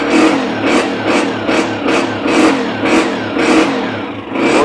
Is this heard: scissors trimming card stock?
no